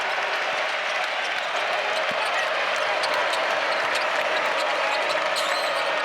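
Crowd noise at a college basketball game between Radford and North Carolina fills the arena as a steady, loud wash with scattered claps and occasional ball bounces, with no clear break.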